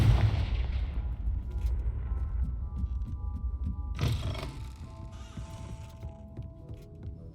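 The Confringo blasting spell goes off in Hogwarts Legacy as a fiery burst and sharp blast, followed by a second crackling impact and a fading ringing tail, with no talk.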